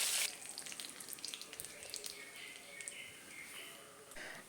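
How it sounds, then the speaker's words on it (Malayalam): Urad dal and mustard seeds fry in hot coconut oil, giving a soft, steady sizzle with fine crackles that stays faint and even throughout, with no talking. "നമ്മൾ കഴുകി വെച്ചിരിക്കുന്ന ഉഴുന്ന് പരിപ്പ് നമുക്ക് എണ്ണയിലേക്ക് ഇട്ട് കൊടുക്കാം"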